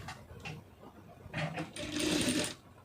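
A sewing machine runs in short bursts and then a longer steady whir as it stitches along folded fabric for a knot-style design, close and fairly loud with no talking.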